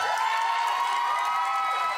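Studio audience at a Haus of Devereaux drag show cheering and shouting steadily, a dense wash of crowd noise with whoops and light applause for a performer just offered an apprenticeship.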